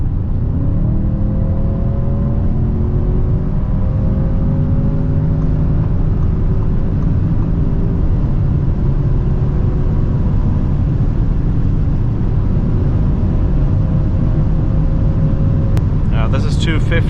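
Audi S8 V8 with 571 hp pulls hard at high speed on a night drive, a steady loud engine drone with rising harmonics heard from inside the cabin, a voice talking over it throughout.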